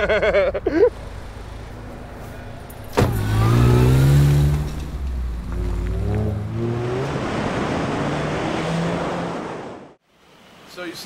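A car accelerates hard toward top speed, its engine note climbing through the gears with a loud rush, then easing and fading out near the end.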